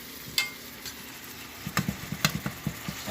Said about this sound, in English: Tammy's technique is for browning meat.